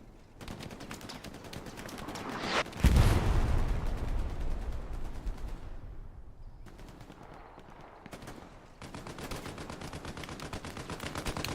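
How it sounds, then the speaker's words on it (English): Medium tank cannon fire booms through a video game battle, with one heavy blast near three seconds amid dense rattling gunfire and further bursts toward the end. "Seekta dodging cannon fire here from the tank in front of him, that medium tank."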